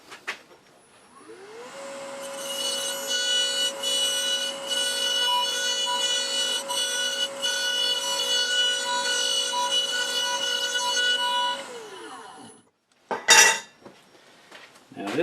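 A wooden dowel is turned through a threading jig, cutting full-size wood threads with a steady scraping, grinding rasp for about ten seconds. A brief clatter of handling follows, with no talk.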